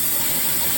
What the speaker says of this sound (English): We got a steady steam here going.